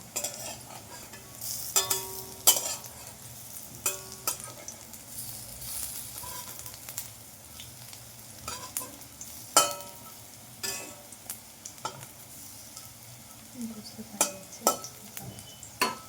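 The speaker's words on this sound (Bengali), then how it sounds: "এই যে উলট পুলট করে লাল লাল করে ভেজে নেব।" Gandhabhadali leaf fritters fry in hot oil with a steady low sizzle, broken by sharp clinks and scrapes of a utensil against the pan as they are turned over, close and clear.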